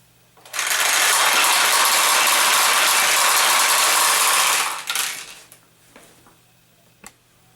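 Balls rush through a Nishijin pachinko machine as the flipper is pulled down, a loud dense metallic rattling cascade lasting about four seconds, then tapering into a few scattered clicks and a final tap.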